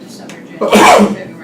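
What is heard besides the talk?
sneeze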